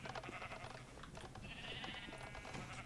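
Minecraft sheep bleat in a blocky video game world, one drawn-out bleat rising clearly midway through over a busy, steady background of game noise.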